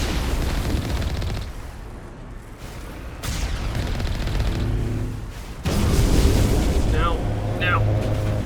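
Gunfire and cannon-like blasts from the Mass Effect video game, Feros level at Zhu's Hope, form a dense rumbling barrage with sharp bursts that surge in several waves, loud throughout, with a voice talking over parts of it.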